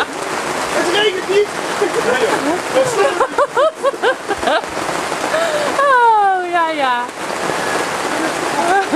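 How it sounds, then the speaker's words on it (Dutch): Steady rain patters on a surface throughout, with people talking over it and a dog briefly whining partway through. "Het regent"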